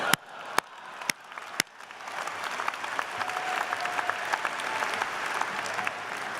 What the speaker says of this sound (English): Let's give me a big round of applause.